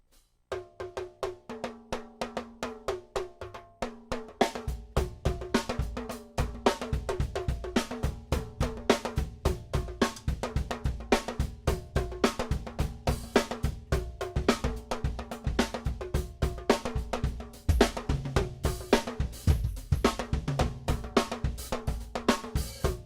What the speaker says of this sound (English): They're mini timbales, and they sound like this.